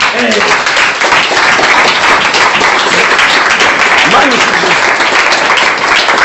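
A church congregation bursts into loud, dense applause, a steady wash of many hands clapping without pause, with voices mingled in the roar.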